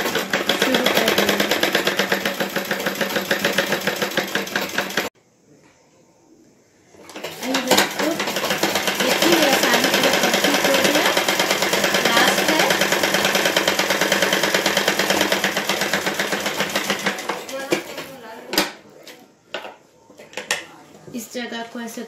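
Sewing machine stitching lace onto a saree: a steady, fast mechanical whirr that runs for about five seconds, pauses briefly, then resumes for a long stretch before breaking into short stop-start bursts.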